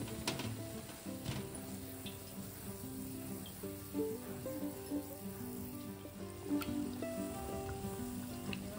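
Bread pakoda, batter-coated bread, frying in hot oil with soda in the batter, a low, steady sizzle and bubbling that runs throughout at close range, with faint clinks and no talking.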